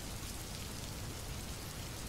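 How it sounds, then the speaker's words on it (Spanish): Steady rain falls in a soft, even hiss that stays constant throughout, fairly faint and with no voices or other sounds. "Habrá que esperar a que el cielo deje de llover."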